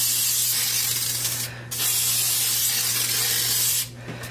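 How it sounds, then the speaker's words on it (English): Pam cooking spray hisses from a can into a crock pot in two long, close bursts, each lasting a couple of seconds, separated by brief gaps of near-quiet hum. "Make sure you get those sides sprayed good."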